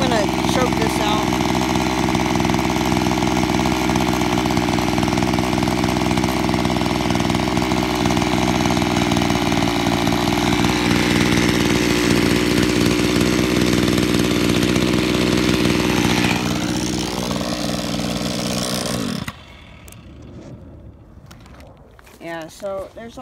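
A Mantis tiller's small two-stroke engine runs loud and close, buzzing steadily with a slight change in pitch midway, then revs, drops and cuts out near the end, leaving faint knocks and handling noise.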